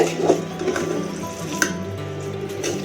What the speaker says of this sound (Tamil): இப்போ வடைச்சட்டியில் இருக்கிறத சாதத்தோட கலந்து விட போகிறேன்